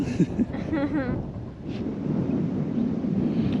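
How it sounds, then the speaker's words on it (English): Strong wind buffets the microphone in a heavy, continuous rumble at a high lookout in Kalbarri National Park, Australia, with a brief voice early on. "And a lot of wind up here."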